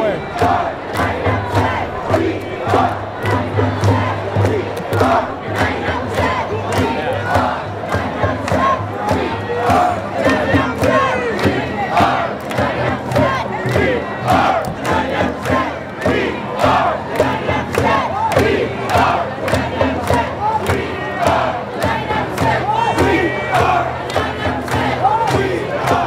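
Large rally crowd in Los Angeles chanting and shouting together in a steady rhythmic roar, loud and close, with rising cheers and battle-cry yells throughout.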